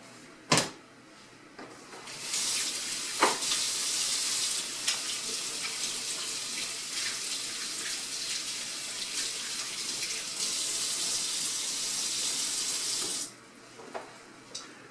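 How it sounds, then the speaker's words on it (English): Hands being washed under a running kitchen tap before baking a cushaw pie, a steady broad hiss of flowing water lasting about eleven seconds with a few knocks and clicks at the start and end. "Let me wash my hands"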